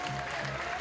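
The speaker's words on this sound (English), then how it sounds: "give her a big round of applause, ladies and gentlemen" Audience applause at a bouldering final of a climbing festival championship, a short steady wash of clapping that stays at an even level throughout, with a faint tone running underneath.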